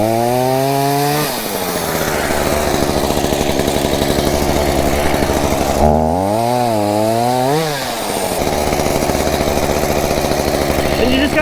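A chainsaw runs loud and close, its engine revving up and down in pitch with a couple of throttle surges.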